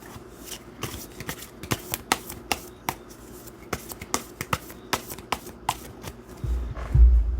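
Tarot cards are shuffled and handled up close, making a run of crisp, irregular flicks and taps. A low rumbling thump comes in at the very end.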